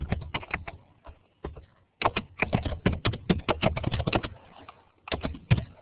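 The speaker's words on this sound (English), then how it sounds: "I'm typing now." Rapid bursts of keystrokes on a computer keyboard, clattering in uneven runs with short pauses between them, fairly close and alone, no voices present.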